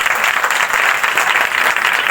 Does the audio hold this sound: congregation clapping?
yes